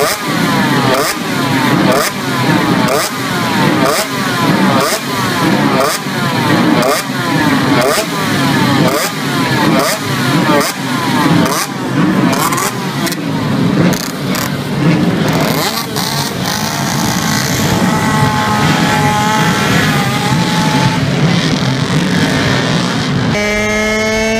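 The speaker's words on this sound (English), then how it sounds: "This motorcycle was created in cooperation of the Kreidel motor brand and its Dutch importer called Van Veen." A Kreidler Van Veen racing motorcycle engine revs in a steady series of sharp, rhythmic bursts about once a second, close and loud, before shifting into a smoother rising whine near the end.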